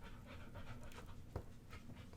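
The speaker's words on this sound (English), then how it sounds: "You might see the dog in the back" A dog pants softly in the background of an indoor room, a quiet continuous breathy rhythm under low room noise with one brief louder thump.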